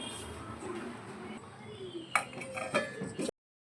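Emptied metal kitchen vessels are handled and knocked together after scrubbing, giving a soft shuffling scrape followed by two or three sharp, close metallic clinks.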